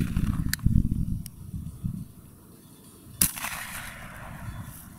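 Second shot from a hunting shotgun firing a 36-gram load of No. 3 shot, heard as one sharp, loud outdoor report followed by a fading tail, with lower rumbling noise before it.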